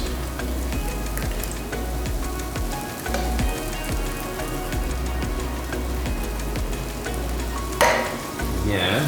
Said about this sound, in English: I'm just gonna stir that all together